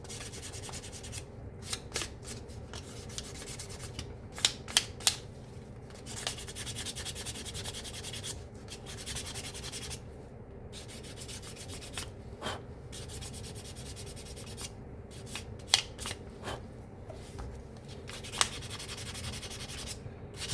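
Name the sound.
sandpaper sanding leather edge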